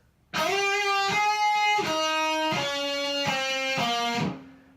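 A clean, sustained electric guitar line of a few descending notes, the intro to a song, each ringing out clearly and alone with a bright tone.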